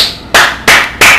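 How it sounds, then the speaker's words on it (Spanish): Three sharp hand claps, evenly spaced about a third of a second apart, loud and close, with no talking, given as mock applause during a gaming stream. "Te voy a dar un aplauso"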